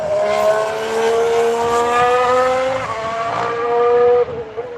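A Ferrari race car screams past during a testing session, its engine note rising and then dropping in pitch as it sweeps by close and loud, fading away at the end.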